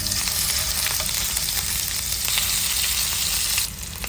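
Meat for Bicol express fries in hot oil in a pan, giving a dense, even sizzle that holds steady and then drops slightly near the end.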